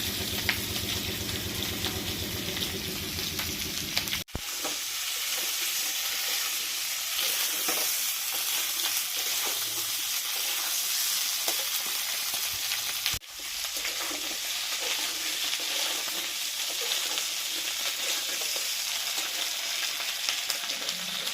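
Potatoes with green chillies fry in a pan in a home kitchen, a loud, steady close sizzle with occasional stirring scrapes running throughout, no voices.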